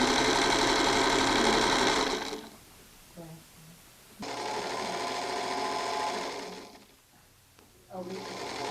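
Sewing machine stitching a quilt block, loud rapid whirring runs close by in two main bursts with brief pauses between, then a short final burst.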